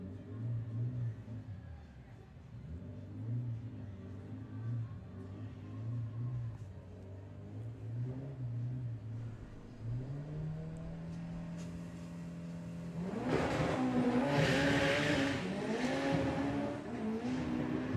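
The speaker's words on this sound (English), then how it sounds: "Those front tyres scrabbling for grip there." A Mark 1 Volkswagen Golf launching at a drag strip, engine idling and burbling low before a sudden loud rising roar as the front tyres scrabble for grip, the run blaring near and then holding at full throttle under crowd noise.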